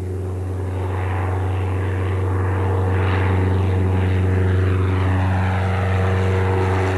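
A seaplane's propeller engine during landing, heard from inside as a loud steady drone with a strong low hum that swells slightly midway and holds.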